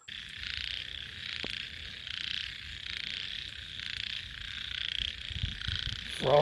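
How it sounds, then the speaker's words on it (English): Frogs croak outdoors in a dense, steady chorus of pulsing calls that repeat in a regular rhythm at a moderate distance, with no voices over them. "Lots of frogs out here,"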